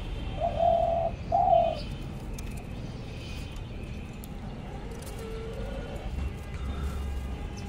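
Eurasian collared dove gives two short, clear coos close by, then goes quiet, with only faint room noise and a softer call in the background.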